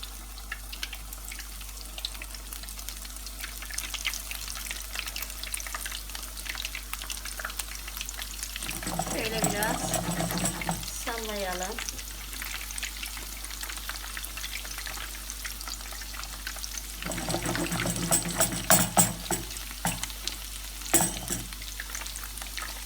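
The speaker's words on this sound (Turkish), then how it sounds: "Şimdi peynirli hamurumuzu yağımızın içerisine atıyoruz." Cheese pişi dough frying in hot oil, a soft steady sizzle and crackle throughout, swelling louder in bursts as pieces hit the pan, with occasional clinks and scraping, no talking.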